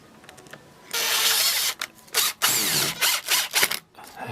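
Power drill driving screws while fitting an outside tap: one long whirring burst, then several short stop-start bursts, close and loud.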